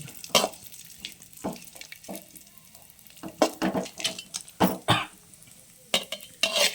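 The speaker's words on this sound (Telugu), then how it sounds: "ఎండు ద్రాక్ష ఇది కూడా నెయ్యిలో వేయించుకోవాలి." Raisins frying in ghee for dry fruit laddu, heard as a spoon stirring and scraping the pan in irregular bursts over a soft sizzle, close and moderately quiet, with no speech.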